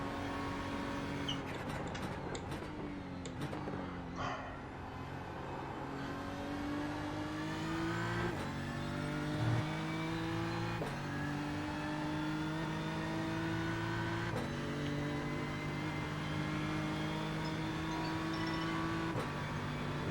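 A VW VRS car drives on the Nürburgring track, heard as a continuous engine drone that climbs in pitch through the gears with several shifts, under steady road and wind noise, with no talking.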